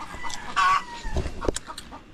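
A hen about to lay an egg clucks in short bursts, one drawn-out squawking call standing out among quieter rustles and knocks nearby.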